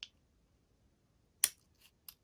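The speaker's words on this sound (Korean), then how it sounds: "그리고 이 구멍에 가위를 집어넣어서" Scissors cut into origami paper to widen a small hole, giving a couple of crisp, brief snips separated by quiet, close and fairly faint.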